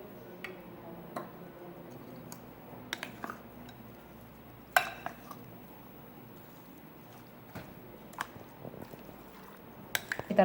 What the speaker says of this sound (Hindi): अब हम सब चीज़ों को अच्छी तरह मिक्स कर लेंगे।